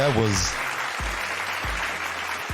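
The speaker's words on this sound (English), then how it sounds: "we want to give him a round of applause" Audience at a Kwanzaa gathering giving a round of applause, a steady wash of clapping with a brief voice at the start and a few low thumps underneath.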